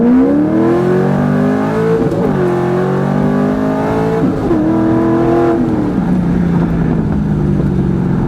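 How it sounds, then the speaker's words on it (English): A Corvette Z06 sports car engine revs hard and climbs through the gears on the road, its roaring pitch rising and dropping with each shift, loud and close. "we're going to take the Z06 for a quick spin out on the road here"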